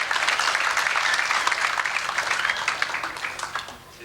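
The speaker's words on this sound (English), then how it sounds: "Give yourself a round of applause." Audience applause at a sports hall of fame induction dinner, a dense wash of many hands clapping that holds steady and loud, then thins into scattered claps as it fades toward the end.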